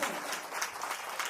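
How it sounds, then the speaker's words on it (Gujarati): A crowd at a Ram katha religious gathering in Palsana claps together in sustained, dense applause that holds at an even level throughout. "એકવાર જોરદાર તાળીઓથી વધાવો."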